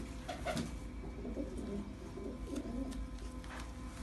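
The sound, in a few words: pigeons cooing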